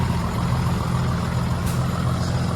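Tractor engine idling on a date palm farm in Saudi Arabia, a steady low rumble that holds close and constant throughout, with a faint brief hiss near the end.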